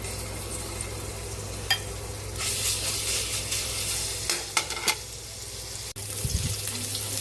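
Garlic sautés in a little oil for sinigang sa miso, a steady close sizzle with occasional utensil knocks and scrapes, swelling briefly louder midway, no voices.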